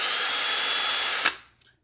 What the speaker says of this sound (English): we're gonna compare a low speed to semi-fast drill